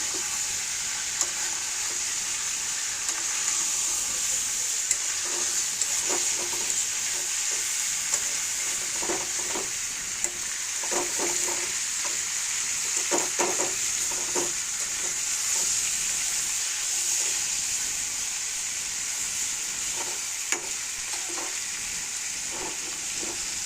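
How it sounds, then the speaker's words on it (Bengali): Pieces of chicken browning in a pan for chicken curry are turned and stirred, a continuous frying sizzle broken by repeated light clicks and scrapes of the utensil against the pan. "এখন একটু মাংসগুলো নেড়ে দিব।"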